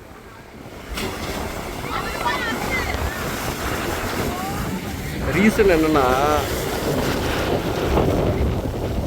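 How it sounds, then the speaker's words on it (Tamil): Sea waves surging and churning at Poompuhar beach, a steady loud wash of surf with wind buffeting the microphone, while people talk over it throughout. "இந்த கடல் வந்து அப்படியே பொங்கிக்கிட்டே இருக்கும் ஆமாம் பயங்கரமாக பொங்கும் இந்த பாருங்களேன் அலைய"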